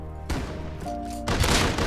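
Gunfire in the survival game Rust, two sharp loud bursts in quick succession close by, each ringing out briefly against a humming background.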